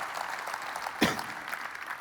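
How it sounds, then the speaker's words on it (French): Audience applause at a business conference on family enterprises, a steady dense clapping that rises briefly to a louder peak before carrying on evenly. "on peut les applaudir bien fort"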